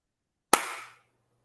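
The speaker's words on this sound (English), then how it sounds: "You think that clap was synced up?" A single sharp hand clap, close and crisp, with a short ring of room echo fading out; otherwise silent.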